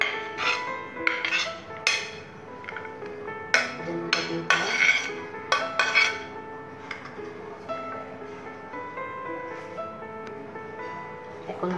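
Potato and mixed vegetables going into a kadai for chicken vegetable jhal puli pitha, heard as close, uneven clinks and knocks of metal that are sharp in bursts and then fade into lighter clatter.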